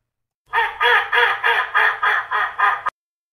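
A cartoonish duck quack sound effect plays as a rapid string of about eight nasal squawks, clear and close, ending abruptly.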